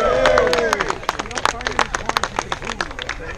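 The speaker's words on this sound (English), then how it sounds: "Big round of applause to Larry Englehart" A small outdoor crowd at a metal-detecting club's seeded hunt gives a round of applause, with sharp, uneven claps close by and voices calling out over them at the start.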